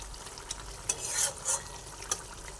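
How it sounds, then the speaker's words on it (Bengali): A spoon stirs fish pieces into a simmering cauliflower and bata fish curry broth, giving soft scrapes and light clinks over a steady bubbling hiss. Close and fairly quiet, with no speech. "এক করে মাছগুলোকে ঝোলের মধ্যে মিশিয়ে দিচ্ছি"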